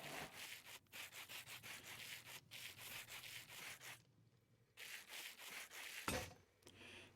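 Sandpaper polishing in a Minecraft mod, a steady run of rhythmic rasping strokes, close and continuous, broken by a short pause midway and a single knock near the end.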